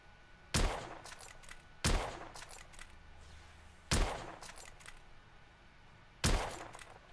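Gunshots in the video game The Order: 1886, four sharp, loud single shots spaced a second or two apart, each trailing off into a brief echo against a quiet background.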